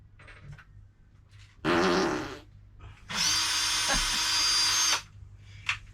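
A short, loud, buzzy fart rips out during work on a Mitsubishi Rosa bus conversion, followed moments later by a longer, louder whine of a power drill, with quiet gaps around them.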